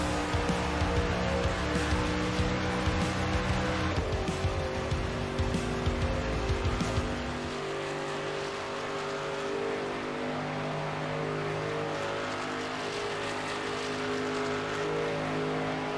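Race cars circling a superspeedway oval, a dense loud engine roar with layered high revs that drops into a steadier, smoother drone as the cars run on.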